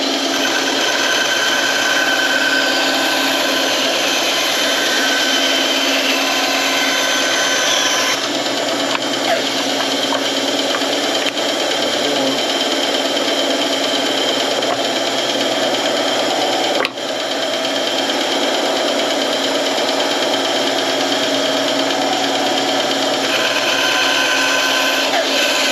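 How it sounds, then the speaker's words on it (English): A bandsaw cutting scrap wood for a pen display, giving a steady, loud mechanical whine and hum that runs without a break for nearly the whole clip, close to the machine. "Let's see if we can get it marked up and over on the bandsaw"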